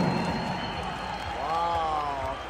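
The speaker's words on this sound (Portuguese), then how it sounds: "Uma salva de palmas para todas as doações que já estão chegando" Faint crowd applause for donations at a football fans' event rises under a voice; scattered clapping blends into the hall's background noise.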